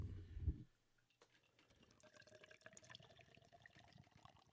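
A hazy 7% craft beer pours into a pint glass, a soft gurgling, fizzing liquid stream after a brief low thump, quiet and close with light bubbling throughout, no talk.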